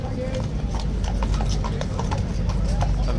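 Police horses' hooves clip-clop steadily on a city street crowded with tourists, a continuous, fairly close rhythm of shod hooves over a loud background of crowd murmur.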